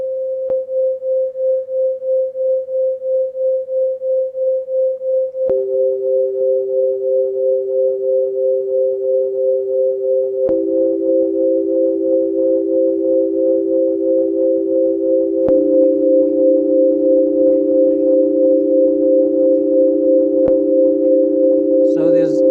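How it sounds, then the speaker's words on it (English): Sonification tones representing the colours of a face, heard as steady pure sine tones that layer into a sustained chord, with new pitches entering every few seconds and holding on evenly. "this is an example of the sound of a face"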